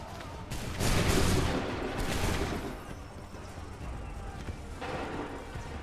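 Musket volleys crack out in Assassin's Creed 3 Remastered, a dense burst of overlapping shots near the one-second mark followed by scattered further reports, loud and close, with softer gunfire trailing off.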